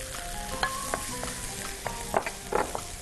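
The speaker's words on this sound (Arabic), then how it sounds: "هنشوح كده،" Onion sautéing in a pan for a Florentine pasta dish, a continuous crackling sizzle with sharp spits and pops scattered across it, close and fairly loud.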